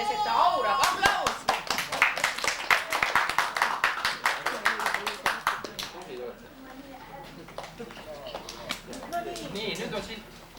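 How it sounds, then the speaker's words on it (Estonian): A village gathering claps in a rapid, loud burst for about six seconds, then fades into scattered chatter and murmuring voices from the crowd. "Aplaus!"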